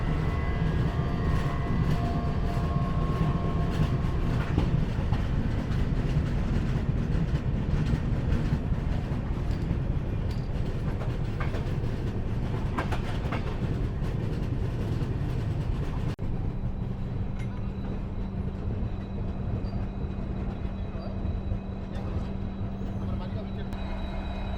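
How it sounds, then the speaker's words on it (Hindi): Bihar Sampark Kranti express train, running from New Delhi toward Darbhanga, passing close by as a steady loud rumble of wheels and carriages sustained throughout, with a constant hum underneath. "सामने से जा रही है बिहार संपर्क क्रांति जो कि नई दिल्ली से दरभंगा की तरफ जा"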